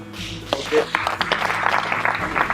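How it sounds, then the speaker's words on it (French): A group of young football trainees at an FC Sion training camp applauds the players, with steady close clapping under a raised voice and some background chatter. "pendant 1 minute on applaudit les gars"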